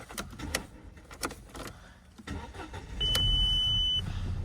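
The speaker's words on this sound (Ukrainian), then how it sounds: "Заводиться автомобіль з півоберту" An Audi A4 engine starts with a quick crank and catches, then settles into a steady idle; a short electronic beep and a faint key jingle come just before the engine rises.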